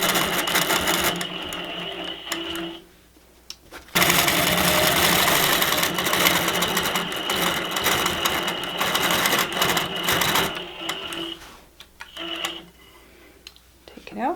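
A longarm quilting machine stitches binding onto a quilt in two long runs of loud, rapid mechanical chatter close by, with quieter pauses between them and a brief start at the end.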